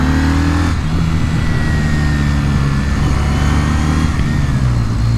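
A 2020 Kawasaki W800 motorcycle engine revs and drops through a rev-matched downshift, a steady close-up drone with rising and falling pitch and no voices.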